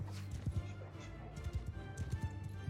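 A pack horse's hooves clip-clop on the ground in Mount & Blade II: Bannerlord, quick irregular hoofbeats close by over a low game backdrop.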